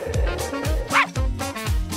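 A dog barks repeatedly in quick, evenly spaced yips, loud and close, with a short whimpering whine in the middle of the series.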